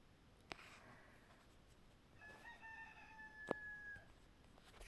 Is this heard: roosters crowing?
yes